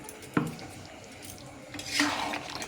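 A spoon stirs chicken curry being browned in a pot for chicken maharani, giving a sharp metallic clink against the pot and then a longer scraping, sizzling swirl. The sound is close and moderately loud with no voices.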